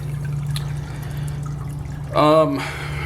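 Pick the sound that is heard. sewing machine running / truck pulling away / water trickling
water trickling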